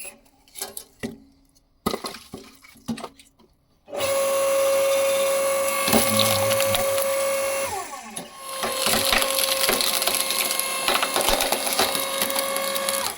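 An AL-KO LSH520/5 electric horizontal log splitter works through dry hornbeam. A few close knocks and cracks come first, then the motor runs with a loud steady hum and steady whine while the wood crunches and splinters.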